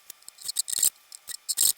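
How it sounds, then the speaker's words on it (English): A guitar nut being notched for the strings during a guitar build: short rasping file strokes in quick uneven bursts, close and dry, with no talking. "Now I've got to notch the nut to accept the strings."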